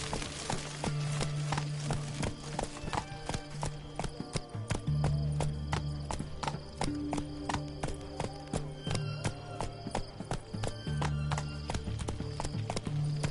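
A horse gallops in The Witcher 3 video game. Rapid, steady hoofbeat clip-clops carry throughout with an occasional whinny, over soft tonal game ambience.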